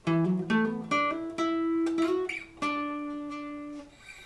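Clean guitar plays a hammer-on part, a few plucked notes ringing out and decaying, moderately quiet and alone without any voice.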